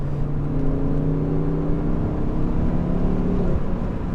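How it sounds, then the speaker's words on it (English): Loud steady engine drone inside a Mk2 Ford Focus ST, with a rising whine of the turbo spooling up layered over the rumble. "you can really hear the turbo spool on this as well"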